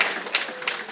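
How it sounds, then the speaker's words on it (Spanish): A church congregation applauds in a steady, dense wash of clapping with a few sharper individual claps, with no talking over it. "Un aplauso, papá Dios."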